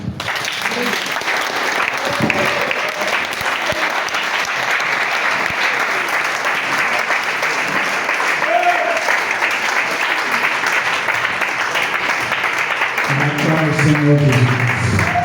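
Sustained clapping from a congregation acclaiming the Lord at a church service, steady and fairly loud throughout, with some voices and a brief musical note rising near the end.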